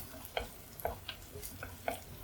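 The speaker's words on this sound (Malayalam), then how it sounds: "ഒരു മൂന്നാല് അല്ലി വെളുത്തുള്ളി ചതച്ചത് അതും കൂടെ ചേർത്ത് നന്നായിട്ടൊന്ന് വഴറ്റാം" Onion, curry leaves and crushed garlic sauté in a pan for raw banana curry, a soft low sizzle broken by several sharp spatula taps and scrapes spaced about half a second apart, quiet and close.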